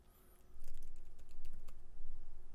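Computer keyboard typing in a quick, irregular burst of clicks, close and fairly clear over a low hum, with no voices.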